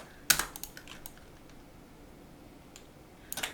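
Keys are pressed on a computer keyboard during Photoshop work. There is a quick cluster of clicks at the start, then scattered lighter taps, then another short burst at the end, all close and quiet with no talk.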